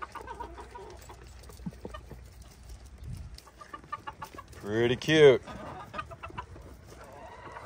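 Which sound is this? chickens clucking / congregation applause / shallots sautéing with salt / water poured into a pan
chickens clucking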